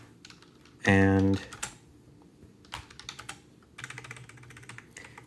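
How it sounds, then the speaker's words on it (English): Keys clatter on a Bluetooth keyboard paired with a One Netbook T1 tablet, a quick burst of typing followed by scattered clicks, with a voice speaking briefly near the start. "it's not a great Bluetooth keyboard, but I can use it to type a little more"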